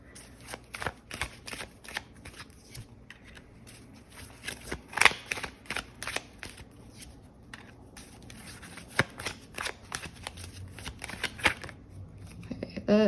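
A tarot card deck being shuffled by hand, repeated crisp riffling and flicking bursts in an irregular rhythm, close and fairly quiet.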